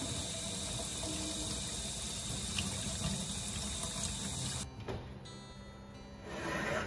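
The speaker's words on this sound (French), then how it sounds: "Ensuite j'ai rincé un peu de persil frais" Tap water runs steadily into a kitchen sink while fresh parsley is rinsed, a constant broadband rush that briefly shifts and thins near the end as the flow changes.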